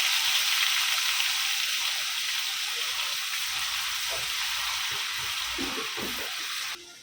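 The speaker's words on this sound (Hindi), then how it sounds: "प्याज अच्छे से भून के हो गया।" Chopped onions frying in hot oil in a pan, a loud continuous close sizzle that holds steady for several seconds, with a few soft stirring knocks toward the end before it drops off.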